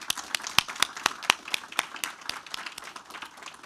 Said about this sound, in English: let's have a round of applause for Chapel Hill Elementary and Baltimore County Public Schools